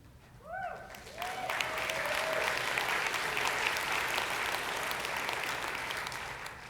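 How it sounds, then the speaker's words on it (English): Audience applause at a Bioneers talk on ecosystem restoration, swelling quickly after a brief voice and holding as a steady, moderately distant wash of many clapping hands. "Not everybody's clapping."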